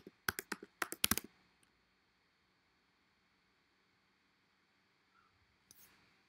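A quick burst of about ten crisp keyboard clicks close by, followed by near silence and a soft rustle near the end.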